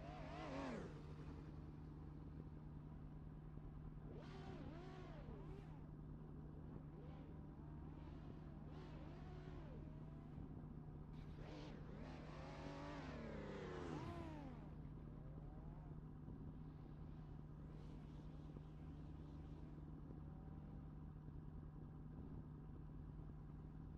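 A V8 car engine in the Assetto Corsa driving game revs and holds a steady drone, with rising and falling pitch sweeps from repeated revving. It is loud and continuous with no talking.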